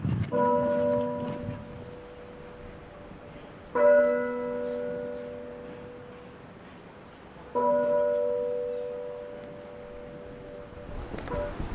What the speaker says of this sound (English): the bell will ring for the next hour in memory of Her Majesty